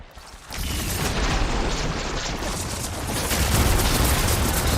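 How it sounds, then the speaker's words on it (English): Ballista bolts firing in the video game Horizon Forbidden West, a dense continuous barrage of heavy booming blasts that swells louder toward the end, with no talk over it. "will fire a few shots from that ballista"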